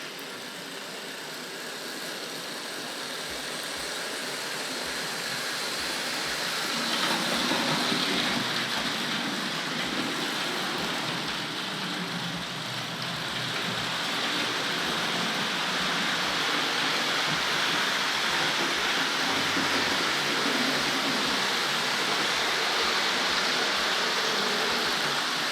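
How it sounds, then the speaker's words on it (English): A Hornby King Edward I model locomotive, a GWR 4-6-0, runs steadily on Silver Seal wheels around a layout, giving a continuous hissing rumble with faint rhythmic clicks from the track, close and fairly loud throughout. "Terrific sound, those Silver Seal wheels."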